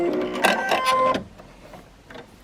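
A Brother Innovis NV1800Q sewing machine trims its thread with a brief mechanical whirring and clicking, close and fairly loud for about a second, then stops and leaves quiet room tone.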